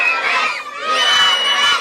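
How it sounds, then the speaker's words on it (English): Children cheer and shout together in a loud, high-pitched crowd roar at a stadium shirt giveaway, sustained across the clip with a brief dip in the middle. "Give us a cheer."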